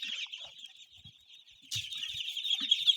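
Chickens and chicks in a pen, including German Black Emerald crosses, giving continuous high cheeping and peeping with a few low clucks, close and steady, growing louder halfway through.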